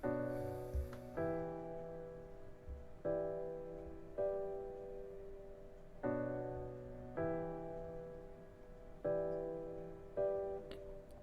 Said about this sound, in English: So I went ahead and I made this piano progression.